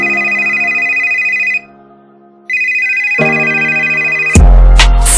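A bright electronic telephone ring tone repeats inside a dancehall track with synth tones, briefly cut out, then returning before a heavy bass beat crashes in loudly.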